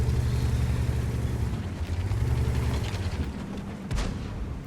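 A Caernarvon AX tank's main gun fires in a video game, a deep booming report near the end over a constant low engine rumble.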